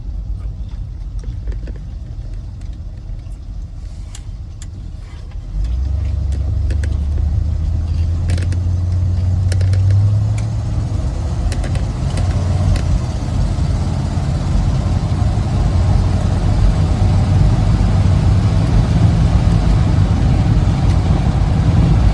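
A 1950 Ford F-1 pickup drives along with a steady low engine rumble that steps up in pitch and load partway through as it shifts gears, staying continuous and fairly loud inside the cab.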